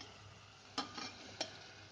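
Bitter gourd pieces with onions in a pan give a faint, steady sizzle broken by a few soft stirring scrapes.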